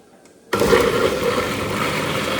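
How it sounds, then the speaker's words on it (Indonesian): After a brief quiet moment, a blender starts abruptly and runs loud and steady, churning sambal ingredients with a constant motor whir. "Di sini kita blendernya."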